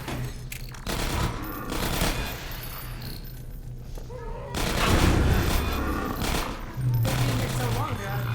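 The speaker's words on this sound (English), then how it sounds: "I hear turrets." Automated turrets in a video game firing rapid bursts of gunfire in several volleys, some loud and near and others thinner, with talk over parts of it.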